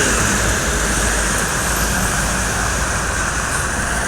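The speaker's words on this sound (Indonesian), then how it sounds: "Ini bus raja jalanan" A large intercity bus on a highway in Sumatra gives a steady, loud engine roar and road rumble that holds evenly for the whole stretch, with no voices.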